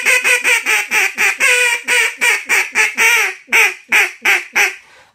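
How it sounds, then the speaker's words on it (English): Repeated loud, nasal quacks blown on a duck call for a comeback call, about fifteen evenly spaced notes in a steady rhythm, close and clear with no talking. "So here's flying away from you guys on the comeback call."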